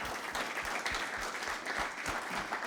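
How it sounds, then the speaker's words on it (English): Conference audience applauding after a talk on PR measurement, a sustained even burst of many hands clapping, heard from a moderate distance with no speech over it. "give Matt a round of applause and thanks for sharing this all with us"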